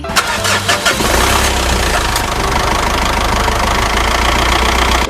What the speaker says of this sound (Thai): เครื่องเดิมๆ ฟิตๆ ไม่รั่วไม่ซึมสตาร์ทติดง่าย เดี๋ยวเราไปฟังเสียงกันเลย